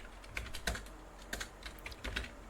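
Code is typed on a computer keyboard, with quiet, irregular clusters of sharp key clicks and short pauses between bursts, heard alone and close by.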